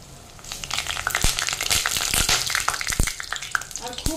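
Lentil fritters (bora) frying in hot, not very deep oil, crackling and sizzling with sharp pops and spattering bursts, close and fairly loud, with no voices.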